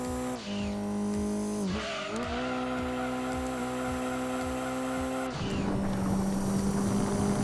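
A race car in Gran Turismo 2 screams through gear changes, the engine note climbing and dropping between shifts, with tire squeal and a harsher roar late on, loud and close.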